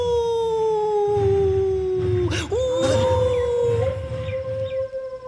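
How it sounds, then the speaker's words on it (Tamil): A single dog howls in long, drawn-out wails, sounding distant yet clear, with the pitch sliding and wavering before easing off, over a low rumble of background noise and no talking. "தூரத்துல ஒரு நாய்"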